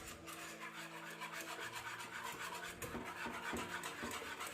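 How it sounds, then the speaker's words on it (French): Lemon curd cream stirred continuously in a saucepan as it thickens, a steady close scraping and rubbing of the utensil against the pan that runs unbroken throughout, with no talking. "ça fait 2 minutes que je suis en train de mélanger"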